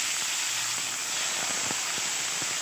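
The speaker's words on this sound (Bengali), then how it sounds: "একবারে দেইনি, হাফ হাফ করেই দিয়ে ভাজছি" Small mourala fish frying in hot oil in batches, giving a steady broadband hiss with scattered faint crackles and pops throughout, close by and with no talking.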